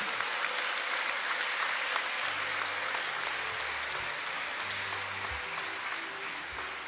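A church congregation applauds steadily in welcome at a parish event, dense clapping filling the space with faint voices mixed beneath, though the ululation is not clearly distinguishable.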